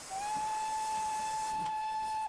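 A steam locomotive whistle sounds in a train simulator game, one long, steady, high-pitched blast holding for about two seconds with a breathy hiss of steam around it, loud and close, with no one talking.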